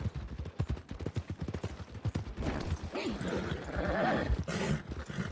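Horse hooves clip-clopping at a steady rhythm in a video game, close and even, giving way to a denser rumble of game ambience with faint mechanical noise.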